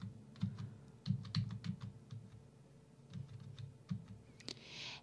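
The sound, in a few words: computer keyboard arrow keys being pressed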